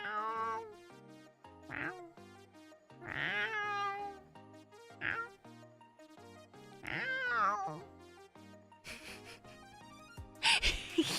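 A cat meows repeatedly in drawn-out, wavering cries, some rising into caterwauls, spaced in irregular bursts over a faint melodic game tune in the background, with a sharp clattering burst near the end.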